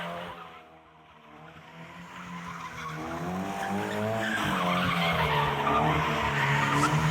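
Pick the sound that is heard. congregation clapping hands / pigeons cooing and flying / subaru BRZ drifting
subaru BRZ drifting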